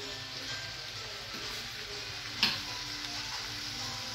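Chopped garlic fries in a splash of olive oil with a soft, steady sizzle and light stirring, fairly quiet, plus one brief sharp tick partway through.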